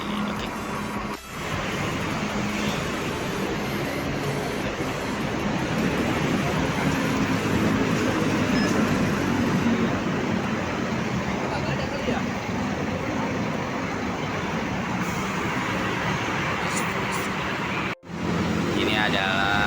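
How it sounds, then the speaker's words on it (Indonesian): Transjakarta city bus on route T11 from Slipi Petamburan toward Poris Pelawati rolls along with a steady, continuous interior rumble of engine and road noise, voices murmuring faintly in the cabin. "Ini adalah bis Transjakarta rute T11 Selipi Petamburan menuju Poris Pelawati"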